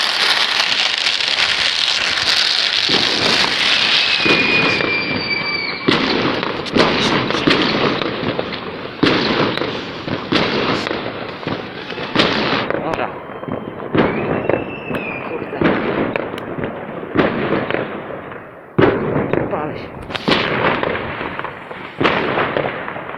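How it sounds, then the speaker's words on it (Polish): Small flying firecrackers for New Year whizzing and crackling upward one after another, a dense hiss with popping bursts and rising whistles, loud and continuous for a long stretch. "Z okazji nowego roku będę puszczać wam petardy koliber"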